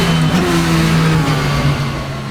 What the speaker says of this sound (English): Little bit of engine noise.